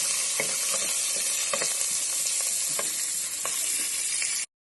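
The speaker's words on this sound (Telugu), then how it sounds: "ఆనియన్స్, కరివేపాకు వేసేసుకోండి. వేసుకొని బాగా కొంచెం ఫ్రై కావాలి." Onions and curry leaves fry in a pan, sending up a loud, continuous sizzle close by with occasional stirring knocks before it cuts off abruptly.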